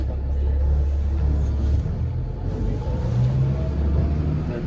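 A tour bus descends the glacial moraine at the Columbia Icefield in first gear, its deep, steady engine rumble and drivetrain drone loud and continuous throughout, with no talk.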